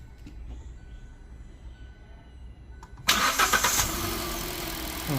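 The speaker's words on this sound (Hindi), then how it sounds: "इंजन हमारा स्टार्ट हो गया है, बहुत स्मूथ स्टार्ट हुआ है। देखो आइडल कर रहा है एकदम।" After a quiet stretch, a Hyundai i20 car engine cranks and catches with a sudden roar, then settles into a smooth, steady idle rumble.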